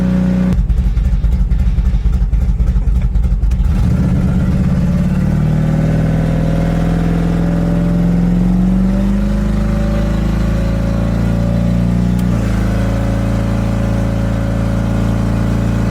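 A refurbished car cruising at about 50 miles an hour with the windows up, its engine a steady droning hum with low road rumble, a brief louder rush near the start and a steady cabin drone throughout.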